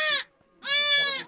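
Goats on a rural farm bleating, two loud, close, nasal calls separated by a short pause.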